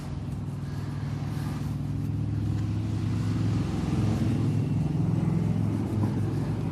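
A BMW E92 M3 exhaust rumbles at idle with a deep, steady, throbbing burble, close and continuous, swelling slightly louder toward the end.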